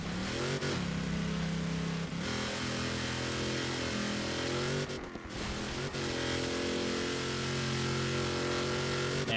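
Trophy truck engine held at full throttle in a Baja 1000 racing video game, a loud, steady high-revving roar with a couple of brief gear-shift dips, continuous and close throughout.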